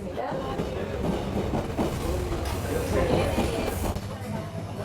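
A train rumbles steadily along the rails with a low, continuous roar and faint rhythmic clatter, heard from close by with no talking.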